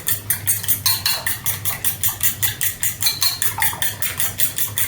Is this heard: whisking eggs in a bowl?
yes